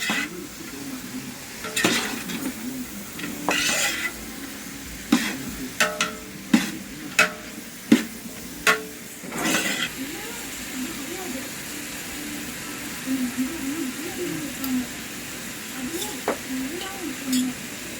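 Sambar powder is sautéed and stirred in a large pan while food is cooked for an annadhanam. A soft sizzle runs underneath, with a run of sharp, rhythmic ladle clanks against the metal and people talking nearby.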